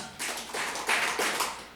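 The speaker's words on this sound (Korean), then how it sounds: "박수 4번 시작." A church congregation claps together four times in quick rhythmic bursts, a dense wash of many hands at moderate distance.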